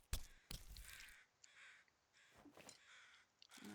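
Crows cawing in The Long Dark survival video game, several harsh calls repeating at intervals, moderately close and alone with no talking.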